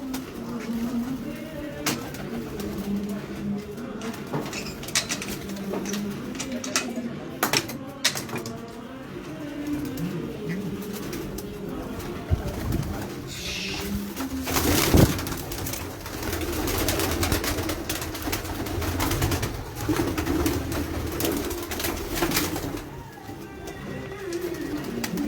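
Kajal pigeons coo in a repeated low, throaty rolling pattern, close and steady throughout, with a few soft clicks and brief background voices.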